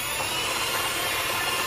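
An electric mixer whirs continuously and steadily up close while beating cake batter of milk, eggs and flour, with a dense, even buzzing hum.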